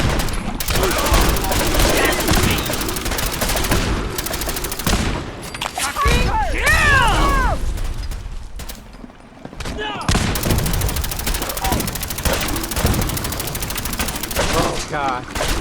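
Battle gunfire in Fallout 4 Far Harbor, dense overlapping volleys and rapid shots filling nearly the whole stretch with a brief lull midway, while voices shout over the fighting.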